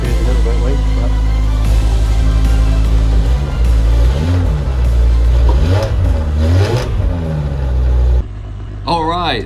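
A BMW E61 M5 V10 with a weak battery fires up and revs loud and close, its pitch sweeping up and down in repeated blips before settling, with a voice exclaiming over the engine.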